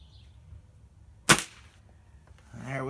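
A Gamo Raptor Whisper .177 air rifle fires once at a metal socket target. A single sharp crack comes through clearly against near silence, and a voice begins to speak just afterward.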